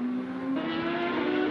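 Loud close engine drone of the Toyota number 7 endurance race car entering the pits, a steady high-pitched whine that shifts pitch partway through.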